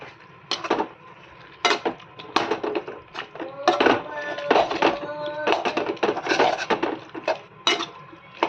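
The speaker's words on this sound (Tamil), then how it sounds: "கறி அள்ளி போட்டு நல்லா வதக்கணும்." Chicken pieces are scooped into a pan and sautéed for a Tamil-style chicken curry, with irregular clanks and scrapes of a ladle against the pan over a soft sizzle, close by, and brief voices in the background.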